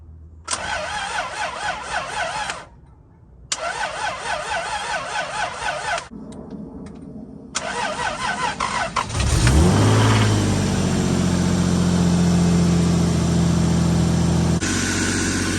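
Three bursts of a Nissan S13 with a 2JZ-GE engine cranking over, then the motor catches and starts, idling loudly and steadily close by.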